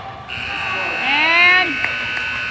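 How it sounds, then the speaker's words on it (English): An arena buzzer at a youth ice hockey game sounds a sustained loud tone lasting about two seconds, with crowd noise and a voice underneath. "a buzzer."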